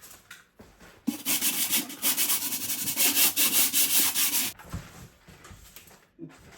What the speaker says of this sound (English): So it's just a light sanding.